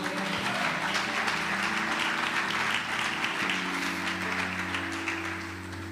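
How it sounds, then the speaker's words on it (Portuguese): Sustained crowd clapping fills a church service over held keyboard tones, steady throughout and tapering slightly at the end. "aplaude o Senhor"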